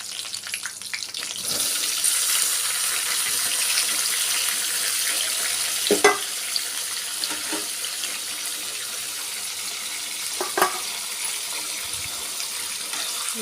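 Half a kilo of chopped tomatoes frying in a pan for Andhra-style tomato chutney, a steady soft hiss with occasional louder crackles and clinks, heard alone without talk.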